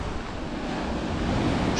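Rough sea waves wash onto a beach in Saranda, Albania, a steady, close roar of churning surf mixed with gusty wind buffeting the microphone, swelling slightly toward the end, with no voices.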